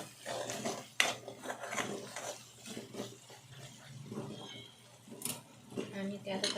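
A spoon stirs mutton masala in a cooking pot while egg dum biryani is being made, with steady scraping and clinking against the metal.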